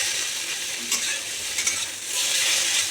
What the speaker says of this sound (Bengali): একটু ঢাকা দিয়ে দিয়ে ভাজবো লো আঁচে